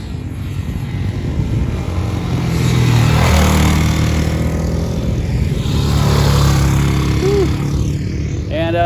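A supermoto motorcycle engine runs loud and close, with a buzzing drone that swells and fades as it passes, over wind rush and a few faint higher chirps toward the end.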